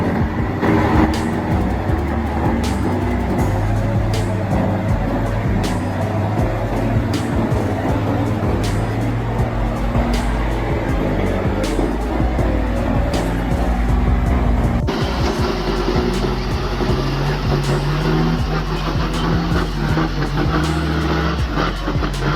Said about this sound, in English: The truck, fully loaded with wood, struggles as its wheels slowly climb the steep hill.